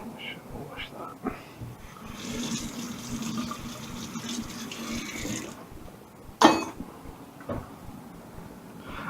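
Tap water runs steadily into a kitchen sink while vegetables are washed during vegetable curry prep with coconut milk, a rushing stream lasting several seconds, then a sharp clatter and a few softer knocks.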